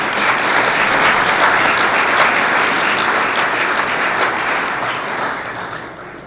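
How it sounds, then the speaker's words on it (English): Audience at a school board of education meeting breaking into sustained, even applause that fills the room before tapering off slightly at the end. "We can definitely clap for that."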